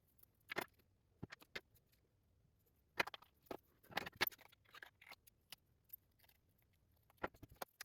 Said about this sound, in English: So let me just trim the edges.